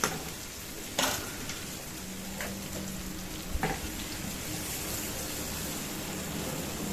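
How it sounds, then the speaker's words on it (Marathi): Okra frying in hot oil after cumin seeds, giving a steady broadband sizzle with a few sharp stirring clatters of the spatula against the pan, heard alone and close. "भेंडी चांगली तेलात परतून घ्यायची आपण व्यवस्थित परत"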